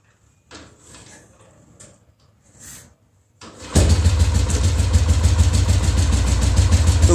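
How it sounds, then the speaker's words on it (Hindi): An old Royal Enfield motorcycle is started, with a few faint clicks and kick attempts before the engine catches and settles into a loud, steady, thumping idle. "अभी हम देखेंगे गाड़ी को स्टार्ट करके और गाड़ी की स्टार्टिंग कैसी है।"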